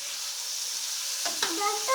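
A garlic mixture hisses and sizzles steadily in a pan, with a brief stirring scrape near the end.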